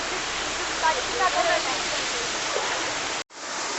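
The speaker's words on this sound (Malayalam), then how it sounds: "മലമുകളിൽ നിന്ന് തട്ടായിട്ട് വളരെ മനോഹരമായിട്ടാണ് ഈ വെള്ളച്ചാട്ടം ഇങ്ങനെ രൂപാന്തരപ്പെട്ട് വന്നേക്കുന്നത്" A waterfall tumbling in tiers down a mountainside into a pool makes a dense, steady roar close by that fills the whole clip and cuts out briefly near the end.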